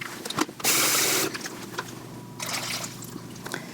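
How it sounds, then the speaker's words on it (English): Water poured into a sous vide cooking container with an Instant Pot circulator, loud splashing bursts of pouring broken by brief gaps, then quieter trickling and dribbling, close by. "So I'm going to add just a bit more water."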